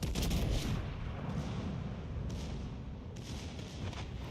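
Secondary battery guns firing in the naval video game World of Warships: Legends, a continuous heavy rumble of repeated booming shots, loud and close, with a few sharper bursts standing out.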